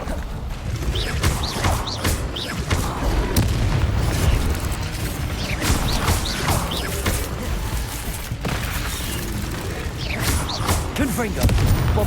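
Repeated spell explosions from the Bombarda and Confringo curses in a Hogwarts Legacy duel, dense booming blasts and bursts layered over a busy battle din with a character's voice calling out now and then.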